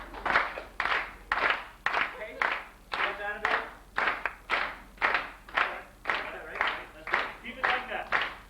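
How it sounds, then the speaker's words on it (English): Women in a live audience at a 1996 stage show clap together in a steady rhythmic beat, about fourteen evenly spaced group claps that sound fairly close and fill the room. "We need some rhythmic clapping. Just the ladies."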